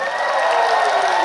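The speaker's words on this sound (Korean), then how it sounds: "지금 큰 박수를 부탁드립니다." Studio applause for the K-pop group ITZY at a fourth-anniversary celebration: a thick, even burst of many people clapping and cheering, loud and close, with a faint tonal backing underneath and no speech.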